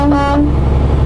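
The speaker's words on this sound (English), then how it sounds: "Honk honk." A single loud, sustained car horn blast sounds up close over a low engine rumble.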